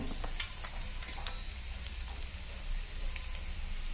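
Onions fry in a pan as salt is added, a soft continuous sizzle with faint crackles and a few light scraping taps, close but quiet.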